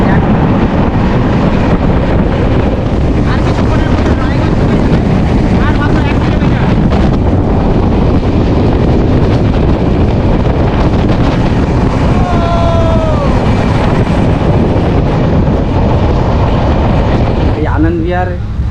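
Loud, continuous roar of the Anand Vihar Terminal weekly express running between Kaliyaganj and Raiganj, heard from aboard with heavy wind rushing past, sustained throughout, with a brief high squeal near the end.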